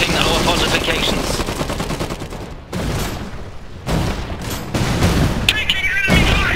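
Enemy gunfire in Iron Harvest 1920, loud rapid bursts of machine-gun and rifle shots with booming impacts, nearly continuous with brief gaps between volleys.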